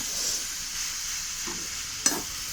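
Mixed vegetables for a Bengali chorchori cooking over a wood-fired clay stove, with a steady soft sizzle under a few scrapes of stirring and one sharp clack of a utensil against the pan, close by.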